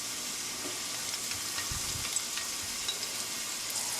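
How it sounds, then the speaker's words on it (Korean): Garlic frying in oil in a tilted pan, a continuous fairly quiet hiss and sizzle with a couple of faint low bumps partway through, no talking. "마늘을 노릇노릇하게 향이 우러나도록 팬을 기울이셔서 먼저 마늘을 구워주세요"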